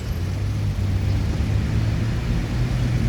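A Sinar Jaya intercity bus pulls into a terminal, its diesel engine giving a steady, close low rumble for the whole moment with no speech.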